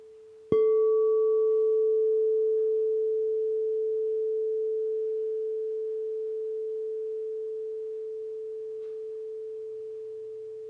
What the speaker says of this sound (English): Just let the sound of the singing bowl wash across your being.